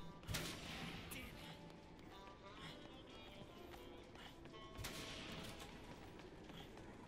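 Gunfire in the video game Dead Rising plays as muffled, distant-sounding shots and bursts mixed with rapid footsteps and game noise, while someone talks over it.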